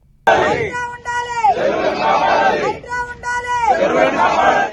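Crowd at a rally in support of HYDRAA at Tammidikunta, Madhapur, chanting slogans in loud rhythmic waves, many voices together with rising and falling cadence.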